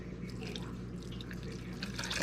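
Warm water splashes and trickles into a cooking pot holding potatoes, a brief, steady liquid pour with a soft dripping texture and a low background hum, no voices.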